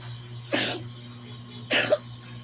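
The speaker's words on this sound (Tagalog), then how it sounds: "Inuubo yung bibi ko" A baby coughs twice, short rough bursts about a second apart, close by over a steady hum with no talking.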